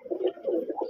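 Benaras pigeons cooing in soft, repeated low murmuring phrases, close and steady, with no talk over them.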